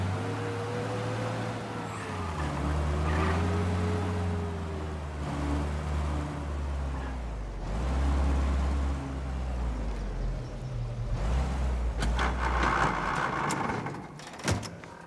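A car drives through the city streets of Mafia: Definitive Edition, its engine droning and shifting pitch as it accelerates and slows over about fifteen seconds, with some rattles and clunks near the end and no talking.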